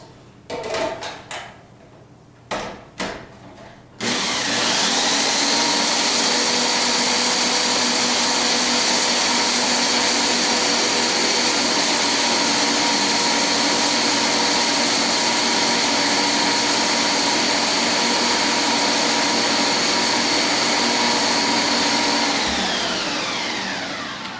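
A kitchen food processor chops nuts such as almonds for a Mediterranean dish, starting with a few short pulses and then roaring loudly and continuously for about twenty seconds before winding down.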